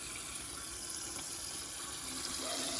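Water swirls around the bowl of a 1956 Case Camel toilet, driven by strong rim jets but without enough volume to siphon, giving a steady, close, even rushing wash that rises slightly at the end.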